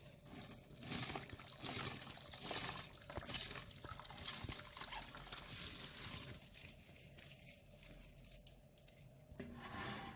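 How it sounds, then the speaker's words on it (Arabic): Rice pours into a pot of boiling water seasoned with cinnamon sticks, cloves and salt, a steady close rush of grains and liquid that trails into bubbling and light clinks. "نجي نضيف الرز"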